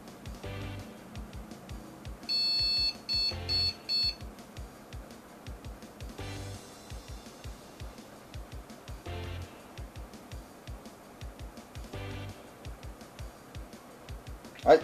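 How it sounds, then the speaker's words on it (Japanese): A home-built PC with a loosely seated GTX 1070 Ti graphics card gives a short run of faint, high electronic beeps. A steady, rhythmic ticking mechanical noise continues underneath. "先ほど実は映像出力がないよっていうビープ音とともに起動しなかったんですね"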